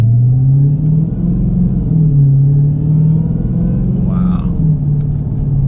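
A 2019 Dodge Challenger Hellcat Redeye engine rumbles deep and steady from inside the car, with a brief throttle blip on a downshift and a short exclamation from a voice.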